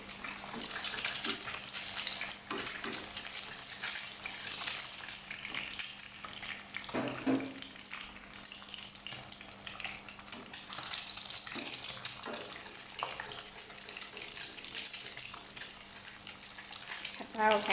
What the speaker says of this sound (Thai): ผัดกะเพราไข่ดาว